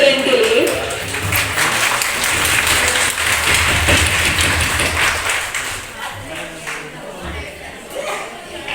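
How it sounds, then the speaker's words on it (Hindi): A crowd at a women's self-help group gathering in Suratgarh gives loud applause for women's empowerment, with dense clapping that is strongest at first and gradually thins out, and voices faintly mixed in. "एक बार जोरदार तालियां हो जाए नारी सशक्तिकरण के लिए।"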